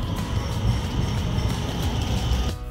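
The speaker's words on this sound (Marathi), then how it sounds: "हां सॉरी, मेट्रो आली, डेनहाग सेंट्रलची" A metro train rumbles loudly and steadily as it rolls into a station in The Hague. The heavy rumble cuts off suddenly near the end.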